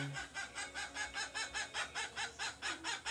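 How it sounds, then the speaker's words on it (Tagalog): Repeated rhythmic clucking from chickens nearby, about a dozen evenly spaced calls in a steady pulse, moderately loud. "Yan ang ingay ng manok."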